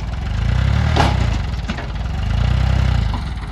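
Tractor engine running under load with no silencer fitted, a loud, throbbing low-pitched chug that swells, eases and swells again, close by and alone.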